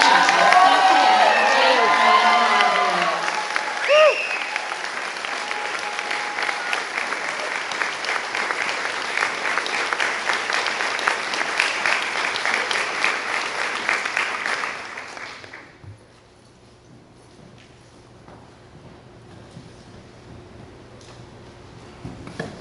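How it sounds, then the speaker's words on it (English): Sustained applause from a graduation ceremony audience fills the hall for about fifteen seconds, loud and dense with a few cheers and a voice over the start, then drops away to near silence. "Let's have another round of applause for our"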